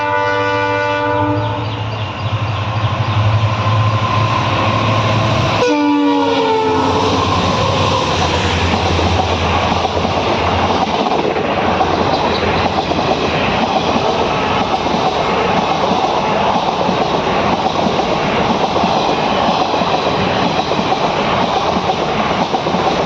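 The Madgaon–Hapa Express running on the Konkan Railway in the rain: a loud, steady roar of the moving train with a long horn blast near the start, then continuous rumble and clatter of the wagons throughout.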